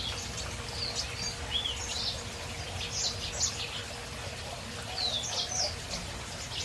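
Small finches and canaries in an aviary give scattered high chirps and short tweets over a steady low hum and faint trickling, soft and intermittent.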